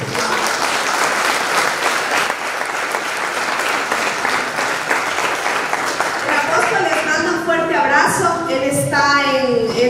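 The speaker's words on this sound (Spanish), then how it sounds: "Denle un fuerte aplauso." A church congregation applauds loudly and steadily, a dense wash of clapping that continues throughout while a voice begins speaking over it in the final seconds.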